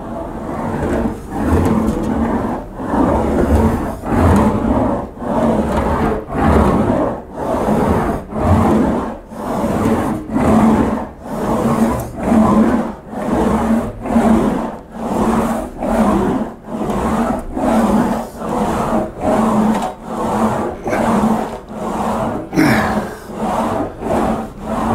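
A metal panel is rolled back and forth through an English wheel to stretch it, giving a loud, close, rhythmic grinding rumble that swells and fades with each pass, repeating steadily throughout.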